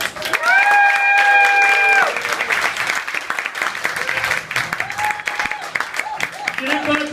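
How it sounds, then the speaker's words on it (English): Comedy gig audience claps and cheers loudly after a stand-up set, with sharp whistles rising over the dense applause early on, then steady clapping continues throughout. "Keep that applause going."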